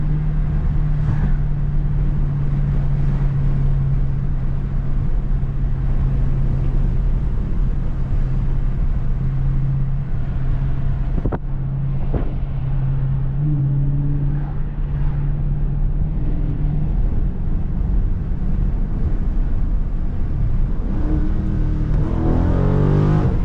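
A Scat Pack widebody car pulling hard in low gear, its engine droning loud and steady from inside the cabin with a rising growl, continuous roar across the whole stretch and no talking.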